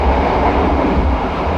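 Logawa business-class passenger train running, a loud continuous rumble and roar of wheels and carriage noise, steady throughout with no talk.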